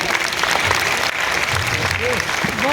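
Audience applause at a public gathering in honour of couples attending with their life partners, steady dense clapping throughout with voices faintly mixed in.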